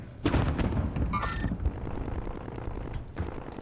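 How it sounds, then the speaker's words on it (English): Bursts of distant gunfire and a heavy explosion-like boom rumble through a dense, noisy Call of Duty: Modern Warfare battlefield, with a sharp crack near the start. "Gunfire happening down here."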